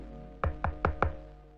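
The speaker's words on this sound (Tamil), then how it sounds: "கதவை தட்டுற சத்தம் கேக்குது." Four firm knocks on a door in an evenly spaced sequence, sharp and close in an otherwise quiet room.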